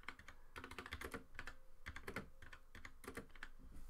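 Numbers typed on a computer keyboard while writing C++ code: a quiet, quick patter of key clicks in short uneven runs, close and alone without any voice.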